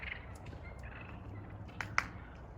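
Turkeys gobble faintly at a distance, a few brief calls rising near the end over quiet background.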